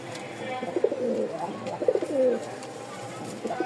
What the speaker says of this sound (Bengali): এখন এক জোড়া কবুতর দেখাবো